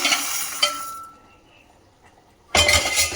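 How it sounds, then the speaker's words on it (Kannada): Fried ingredients being dropped into a mixer jar, a burst of glassy clinks and rattles, a quiet pause, then another sharp clattering burst. "ಮಿಕ್ಸಿ ಜಾರ್ಗೆ ಹಾಕ್ಕೊಳ್ತಾ ಇದ್ದೀನಿ"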